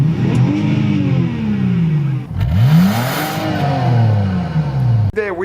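A BMW E46 330ci ZHP with a rebuilt front strut is driven around a yard, its engine revving up and down in repeated rising and falling sweeps, loud and close, ending abruptly.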